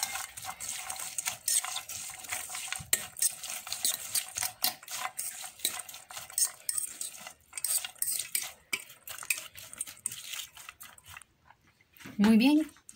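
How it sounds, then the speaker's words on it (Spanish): A spoon stirs salt into salsa criolla, a Peruvian-style onion salad, in a bowl, making uneven scraping and clinking close by, then a voice briefly hums near the end. "y mezclamos"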